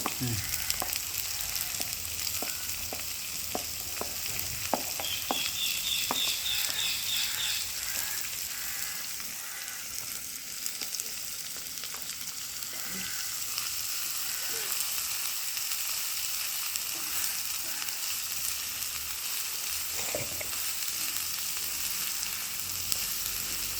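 Sliced onions fry in a pan for a vegetable stew, a steady close sizzle with scattered crackles and light stirring scrapes, continuous with no talk.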